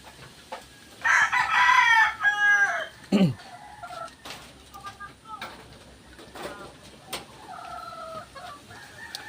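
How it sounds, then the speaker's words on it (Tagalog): A mother hen with her chicks: a burst of loud crowing-like calls near the start, then scattered softer clucks and chirps close by in a quiet yard. "ito yung ina ng mga sisiw"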